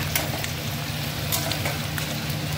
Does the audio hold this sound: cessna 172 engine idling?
no